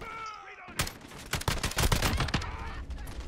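Semi-automatic rifle gunfire in the Modern Warfare video game: a burst of close, sharp shots packed tightly together after a quiet opening with a faint tonal sound, then a fading tail.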